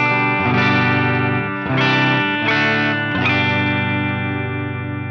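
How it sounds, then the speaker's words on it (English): Electric guitar played through its bridge pickup on a clean-ish tone, with a few sustained chords struck in succession that ring out loud and close with a bright, full sound. "And then finally the bridge pickup, which on a cleanish tone sounds like this."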